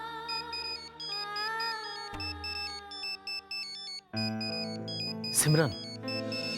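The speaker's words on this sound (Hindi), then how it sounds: "सिमरन का फोन है।" A phone ringtone plays a repeating electronic melody in a Hindi household drama, steady and fairly clear, with a sharp rising burst near the end and brief speech over it.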